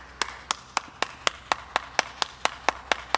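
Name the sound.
audience clapping for Dirjen Vokasi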